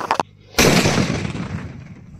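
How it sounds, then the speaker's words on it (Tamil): A firecracker explodes inside a pipe outdoors in a village: a few faint short noises, then one sharp, loud blast whose rumble slowly decays. "இந்த முருண்டைக்காய் 3 கொளுத்தி உள்ள போட்டுறமே இந்த முருண்டைக்காய் 3 பவர் எந்த அளவுக்கு இருக்குது அப்படிங்கறத பாக்க போறோம்"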